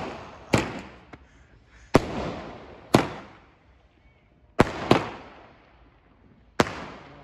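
A 25-shot firework cake going off outdoors at a night celebration, loud booming bursts arriving irregularly every second or two, each followed by crackling decay.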